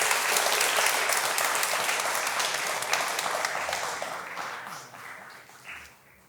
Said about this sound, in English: So if we could just give her a round of applause.